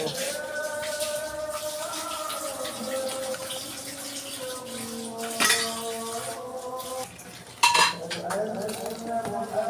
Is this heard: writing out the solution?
no